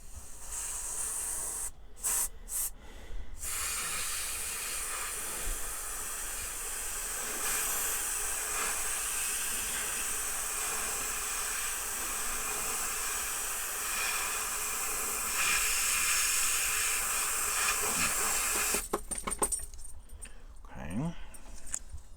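Spray painting a pop-bottle charger through an opened nozzle gives a steady, loud hiss lasting about fifteen seconds. Brief clicks and rattles sound before it starts and after it stops.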